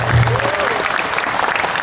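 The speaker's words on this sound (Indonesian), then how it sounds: "Yuk tepuk tangan buat kita semuanya yang luar biasa." Loud, dense applause from a large youth crowd at a religious gathering in Kota Langsa, continuous throughout, with a brief vocal tone near the start.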